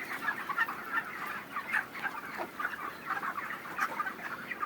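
Dense chorus of chickens clucking steadily inside a poultry shed housing around two thousand birds on sand litter, with a ceiling fan running; many overlapping calls, fairly near and continuous, no voices.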